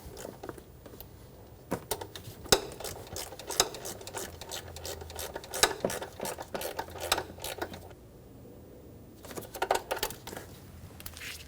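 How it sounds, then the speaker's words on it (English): Ratchet clicking as a bolt is snugged down on the knock sensor of a 2005-2015 Toyota Tacoma 2.7L four-cylinder, close and fairly loud, in bursts of rapid clicks with a short pause near the end. "Snug the bolt down."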